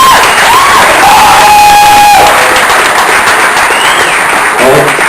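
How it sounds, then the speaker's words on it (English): Sustained applause and cheering from a crowd at a team recognition event, steady and loud throughout, with scattered whoops rising above the clapping. "I just want to get another round of applause for the team"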